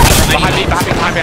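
Airstrike artillery fire pounds down in the battle royale shooter Apex Legends, a dense, continuous barrage of close, loud booms and crackling impacts with no clear pauses, mixed with game noise.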